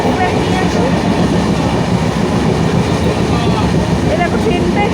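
A train rolls past close by with a loud, steady rumble and rattle of wagons that continues throughout, while people talk faintly in the background.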